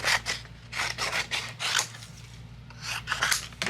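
Fairy tale cardstock is trimmed with a paper trimmer in quick bursts: several close, crisp rasping slices follow one another with brief pauses, over a low background hum.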